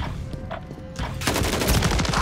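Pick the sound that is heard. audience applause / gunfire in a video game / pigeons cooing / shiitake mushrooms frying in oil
gunfire in a video game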